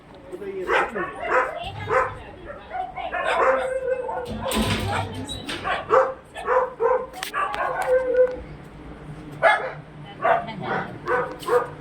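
Several dogs at an animal shelter bark and yip loudly in close, uneven bursts, with some whimpering and howling, and people talking among them.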